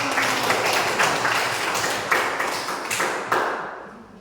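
A classroom group applauds after a student group's presentation, with dense, steady clapping from many hands, fairly close and loud, swelling in brief surges before fading out at the end.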